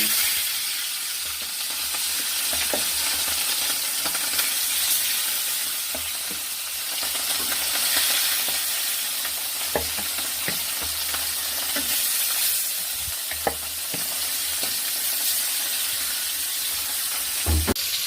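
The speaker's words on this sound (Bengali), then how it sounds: "এবার মাছগুলোকে ভেজে নিব" Pieces of catla fish fry in hot oil in a pan, giving a steady close sizzle with occasional spatters and utensil clicks throughout, no talking over it.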